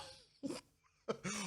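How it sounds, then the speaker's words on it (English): Two harsh, breathy coughs from one person, close and fairly quiet, separated by a short pause, with no speech. "Coughing like I just accidentally sprayed deodorant on my tongue."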